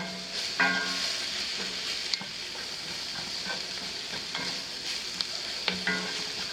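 Garlic frying in a greasy cast iron skillet alongside mushrooms, with a steady close sizzle broken by a few clinks and scrapes of a utensil.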